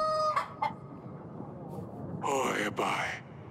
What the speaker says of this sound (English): I got a rooster now.